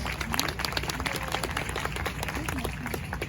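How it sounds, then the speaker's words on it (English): A naturalization ceremony audience of new citizens applauds, a steady, fairly faint wash of many hands clapping at a distance in a large hall. "Give yourself a round of applause."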